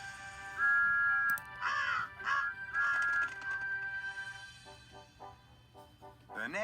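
Several crows caw in a cluster of harsh calls close by, tapering into fainter caws, with a soft steady whistle-like tone running underneath.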